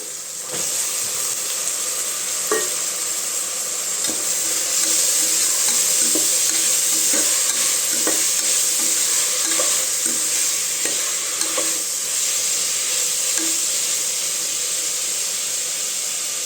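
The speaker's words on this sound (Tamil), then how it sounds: "காய் நல்லா கொஞ்சம் நேரம் வதக்கிக்கலாங்க" Vegetables sautéing with softened tomatoes in a pan for a Tamil mixed-vegetable rice, giving a steady close sizzle and hiss with repeated spoon-stirring clinks throughout, no talking.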